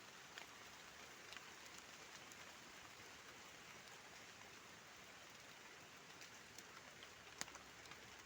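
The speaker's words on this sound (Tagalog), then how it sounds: "Tapos po ng ulan din, naabutan ako sa bundok." Steady, faint rain hiss on a forested mountain, with scattered drops tapping on a surface, continuous and even throughout.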